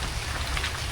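Rain falls steadily outdoors in a dense, even hiss of drops, close and fairly loud, with no voices.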